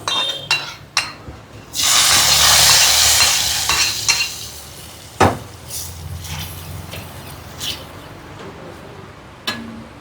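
A sudden loud sizzle erupts as hot oil with fried onions is poured into curry, hissing strongly for a couple of seconds before fading, with a few clinks of a utensil around it.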